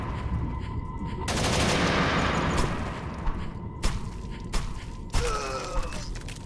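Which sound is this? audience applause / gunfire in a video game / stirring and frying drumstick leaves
gunfire in a video game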